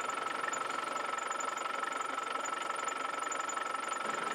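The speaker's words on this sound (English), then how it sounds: "let's run the vehicle up so it's nice and warm now" Vehicle engine running and warming up in a workshop while its cooling system is filled with prep fluid, a steady, even drone with a faint rhythmic knock throughout, no voices.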